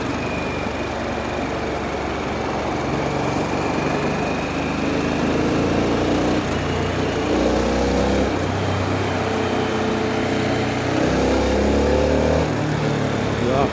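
Harley-Davidson Sportster S engine accelerating on a night expressway run, a steady loud drone with rising and falling pitch sweeps under wind rush, close and continuous without talk.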